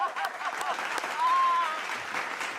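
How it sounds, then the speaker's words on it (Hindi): A crowd claps at a comedy show in Gorakhpur, a continuous spread of applause at moderate level with a brief tonal squeak rising above it midway. "ताली बजा दो।"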